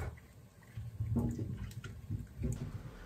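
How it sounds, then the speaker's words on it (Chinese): Garlic bulbs are swished and rinsed in a basin of clean water, making faint close sloshing and splashing in a couple of soft bursts. "放入清水中反复清洗2-3遍以上，将大蒜彻底洗净"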